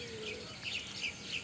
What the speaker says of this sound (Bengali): এই যে দেখতে পাচ্ছেন কিছু কবুতর